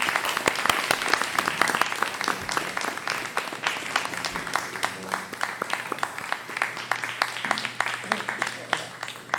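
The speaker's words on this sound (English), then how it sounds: "So again, round of applause for Selectman John Van." A town meeting audience claps for a selectman, a loud crisp round of applause that holds steady and then thins slightly, with faint voices underneath.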